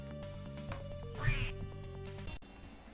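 Cartoonish duck quacks from the duck shoot minigame in the DOS kart racer Wacky Wheels, sounding over steady game music, with one louder quack burst in the middle of the clip.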